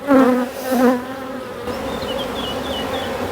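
Honeybees buzz around a small nucleus hive, a close, loud droning hum that swells twice before settling into a steady buzz, with faint chirping audible behind it.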